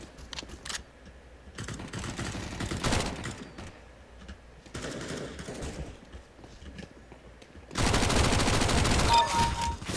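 Gunfire in CS:GO: bursts of close shots and rapid automatic fire arrive in uneven clusters, ending in a dense, loud volley.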